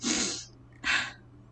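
A woman imitates a sniff with two short breathy nasal bursts, a longer one at the start and a brief one about a second later, close and fairly loud, with no other talk.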